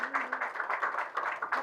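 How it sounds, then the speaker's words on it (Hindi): Audience applause at an award ceremony honouring scholarship recipients, a steady, dense patter of many hands clapping close by throughout, with no break. "आप लोग अतिरिक्त तालियां देकर सम्मानित करिए उनका भी"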